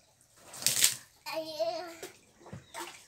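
Water splashes and sloshes during a young girl's bath, with bursts of splashing between her high-pitched voice and shouts nearby.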